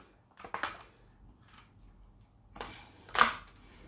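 Plastic back shell clips of a Steam Deck LCD handheld are pried open, giving a few sharp, quiet snaps and clicks spaced apart in a hushed room.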